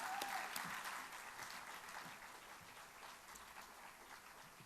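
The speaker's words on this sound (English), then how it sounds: "One more round of applause for those folks." An audience at the 2012 Topper Awards show gives another round of applause, a steady wash of many hands clapping that holds evenly and fades slightly, heard at a distance and quite faint.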